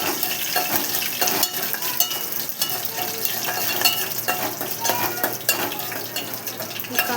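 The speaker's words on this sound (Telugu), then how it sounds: "మిర్చి వేయాలి బాగా. మిర్చి బాగా వేయాక" Green chillies sizzling in hot oil in a pan for upma, a steady close crackle broken by frequent metallic clinks and scrapes of a spoon stirring against the pan.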